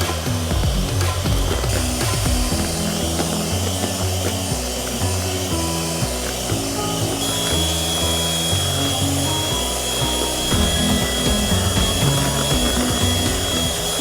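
An electric hand mixer beats cake batter with powdered sugar, a continuous loud whirring drone with a rhythmic thumping churn underneath, steady and close throughout.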